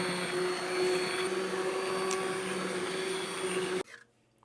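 A blender hums and whirs steadily at close range as it purees tomato soup, holding an even drone for several seconds before cutting off abruptly into near quiet.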